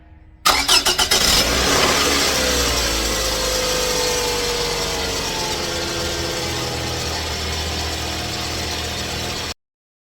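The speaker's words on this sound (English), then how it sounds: "I'm gonna record underneath so you guys can hear the sound that it makes when it starts" A 2008 Scion tC engine cranks and starts, recorded from underneath the car, with a rattling burst of starter cranking that settles into a loud, steady close-up idle with faint ratchet-like clatter, cutting off abruptly near the end.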